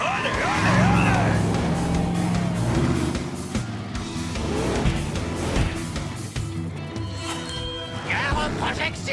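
Monster trucks launching into a race, heavy engines revving and roaring with tire noise, loud and continuous, with voices and music-like tones mixed in over the motors.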